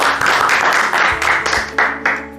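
Applause from an audience at a science presentation honouring young engineers, a steady dense wash of many hands clapping with a few louder surges, no talk.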